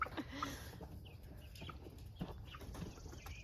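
Chickens cluck and squawk faintly at a distance on a farm as goats chase them, a few brief calls over steady outdoor background noise.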